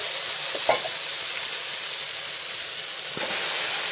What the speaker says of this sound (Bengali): এবার আমি কলাইগুলো দিয়ে দেবো।